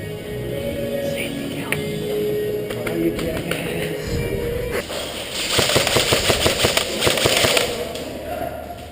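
Rapid airsoft gun shots crackle in a dense burst through the second half, with steadier shooting and movement noise before it during an airsoft game.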